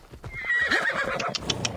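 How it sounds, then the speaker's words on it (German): A horse in Assassin's Creed Odyssey whinnies loudly over clip-clopping hooves, the neigh rising and falling for about a second while hoof beats patter steadily underneath, close and clear with no talking. "Ich hole mal das Pferd."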